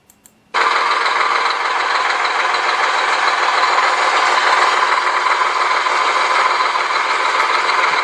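Simulated semi truck engine idle played through a Beier SFR-1 sound controller for a Tamiya RC semi; the synthetic diesel idle switches on abruptly and holds a steady, loud, even rumble and rattle with no voices.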